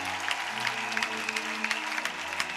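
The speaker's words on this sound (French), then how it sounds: "Acclame très fortement le Seigneur pour toi-même" A church congregation claps in praise of the Lord, a lively stretch of dense applause with scattered sharper claps under a sustained background tone.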